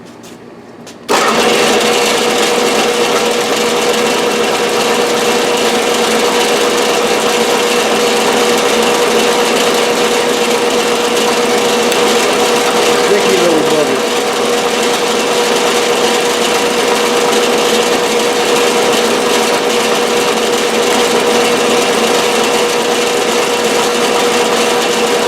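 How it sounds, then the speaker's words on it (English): A hand drill bores rows of holes in plastic for a homemade desiccant air dryer, a steady, loud motor whine running almost continuously after a brief quiet start. "I'm going to just do the dull, boring, drill one, move it, drill one, move it kind of stuff."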